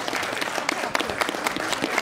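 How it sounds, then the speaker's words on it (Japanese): Steady applause from spectators at a girls' U-17 high school football semifinal between Chinzei Gakuin and Kamimura Gakuen in Kyushu, dense sustained clapping at moderate distance with no talk. "両チームに今後、今一度盛大な拍手をお送りください。"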